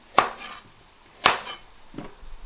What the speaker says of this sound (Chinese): 然后把那个红萝卜切成大大的滚刀坨坨